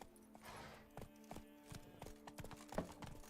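Hoofbeats of Roach, the horse in The Witcher 3: Blood and Wine, clop in a steady trotting rhythm of sharp, evenly spaced thuds over a low ambient hum, moderately loud and close with no talking.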